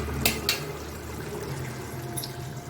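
Water is poured onto vegetables for Tamil-style kootu in a pressure cooker, a soft splashing fill with a couple of sharp clinks near the start, quiet and close, with no talking.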